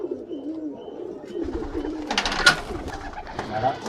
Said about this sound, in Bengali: এই যে দেখুন এই যে তিনটে পায়রা